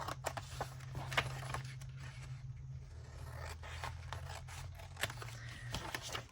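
Scissors snipping through paper during a journaling craft session, a series of soft, close, faint cuts and scrapes spread over several seconds with no talking.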